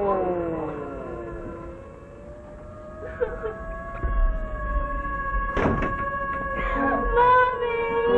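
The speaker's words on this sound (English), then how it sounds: "Hey, look at the ambulance." An ambulance siren wails with steady, sliding tones through the clip, joined by a few thuds and knocks, a loud bang partway through, and faint voices.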